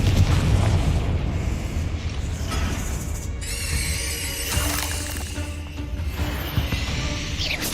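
An explosive fire spell blasting in the Hogwarts Legacy video game, heard as a loud rumbling boom with crackling debris, followed by a bright shimmering magical whoosh and lingering low roar.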